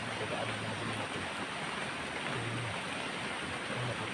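Heavy rain pours down in a steady, dense hiss that fills the whole stretch without pause, loud and close, with faint low hums underneath.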